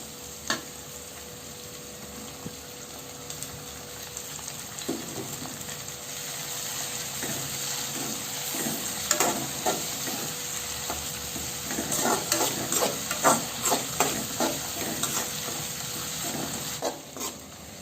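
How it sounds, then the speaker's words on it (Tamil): Onion and tomato sautéing in a pan for a village-style fish curry, a steady close sizzle broken by a spoon stirring and scraping in irregular bursts that grow busier toward the end. "தக்காளி வெங்காயம் நல்லா வதங்கிருச்சு."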